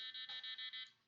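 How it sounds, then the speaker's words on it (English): A posture monitor built with machine learning sounds an electronic alarm, a shrill high-pitched buzzer pulsing in about five rapid beeps before fading out. "But if I'm to the right or the left, an alarm plays."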